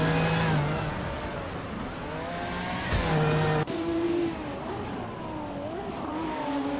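A Ferrari 512 and a Porsche 917LH scream along in a race, loud engine notes rising and falling through gear changes, with one car's tone cutting abruptly to another close by.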